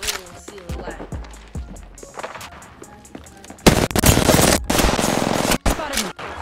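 Rapid gunfire in the video game Apex Legends, with scattered single shots at first and then dense, sustained automatic bursts, loud and close, with brief gaps between bursts.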